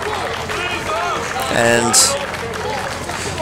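A wrestling crowd at the Sweet Corn Festival in Urbana cheers and claps for the Mississippi Madman. Loose cheering and scattered applause sit under a commentator talking over the action, with a brief louder burst midway.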